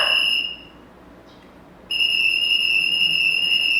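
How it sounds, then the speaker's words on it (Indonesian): A shrill, steady whistle blast, briefly cut off, then blown again in a longer sustained blast, loud and close with no voices. "bunyi peluit."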